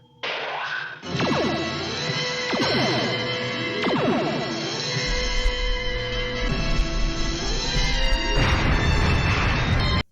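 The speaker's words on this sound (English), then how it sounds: "Phaser 1, fire." Star Trek phaser fire mixed with explosions: repeated sharp crashing blasts with ringing, descending electronic tones, followed by a sustained rumbling roar near the end, loud and dense throughout.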